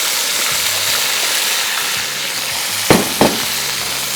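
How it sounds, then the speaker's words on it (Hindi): Okra hissing steadily in hot oil, a dense even sizzle with two sharp clatters near the end as the pan is disturbed, recorded close with no talking. "ऑयल जैसे ही गर्म हो गया, इसके बाद हमने सिंपली ये भिंडी शामिल करूँगा"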